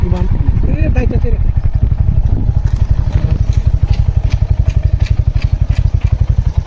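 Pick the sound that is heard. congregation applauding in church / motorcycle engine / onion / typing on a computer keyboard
motorcycle engine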